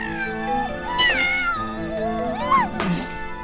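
A cartoon cat meows repeatedly in a witch-themed animated scene, with rising and falling wails over a busy music score, loud and close.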